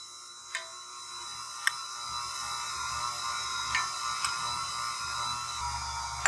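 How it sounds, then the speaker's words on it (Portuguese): A stand mixer runs steadily on low speed while powdered milk is added for a cake-in-a-jar filling, giving a soft, even mechanical hum with a few light clicks and a slight rise in low rumble partway through. "Vou ligar minha batedeira aqui no fraquinho"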